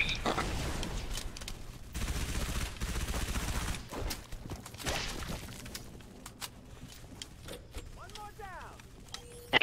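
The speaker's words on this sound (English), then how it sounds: "I'm just sniping these fools out with my SMG right now." SMG fire from Halo MCC Flood Firefight comes in rapid bursts and rattling volleys through the first half, then thins into scattered shots and clinks, with someone talking between the bursts.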